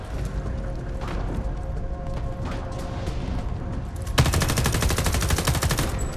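Shotgun and gunfire in the video game Homefront: The Revolution, mechanical clicks and scattered shots giving way to a loud, rapid burst of fire in the final seconds.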